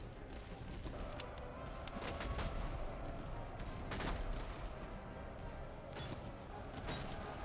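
Scattered gunfire from soldiers in the strategy game Master of Command, with a Commonwealth army's Lithuanian troops under fire: a steady musket fusillade of many distant cracks and volleys over a dense battle din, with no voices.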